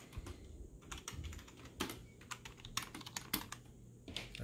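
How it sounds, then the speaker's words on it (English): Fingers typing on an MFtek computer keyboard, a quiet close series of irregular key clicks and taps, with no talking. "Okay, can you type something?"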